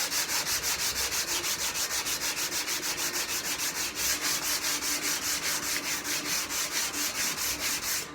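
Wood is hand sanded with medium-grit sandpaper in rapid, steady back-and-forth rasping strokes, close and fairly quiet, with no talking.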